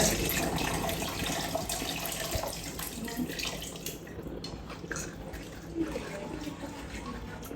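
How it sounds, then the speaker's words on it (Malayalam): Water streams into a simmering sardine chili curry with a steady splashing gurgle, close and continuous, the flow easing slightly toward the end. "കുറച്ചും കൂടി വെള്ളം ചേർത്ത് കൊടുക്കാൻ പോവാണ്"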